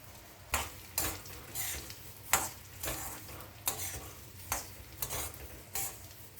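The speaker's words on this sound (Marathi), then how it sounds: "आणि आता भाजायचे आपल्याला धणे तुम्ही सुके भाजू शकता पण तेलात भाजले तर छान भाजले जातात." Coriander seeds roasting in a little oil for Vidarbha-style masala, stirred in rhythmic strokes that bring repeated bursts of scraping and rattling over a faint low sizzle, close and quiet, no speech.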